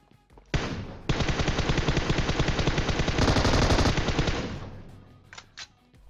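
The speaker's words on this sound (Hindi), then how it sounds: "सकोप खोल रखा है गोली चल रही है" Automatic weapon fire in the PUBG Mobile battle royale game: one short burst, then a sustained, rapid stream of loud, close shots lasting several seconds before tapering off, followed by a few faint sounds.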